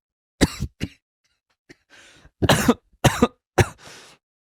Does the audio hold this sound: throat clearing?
yes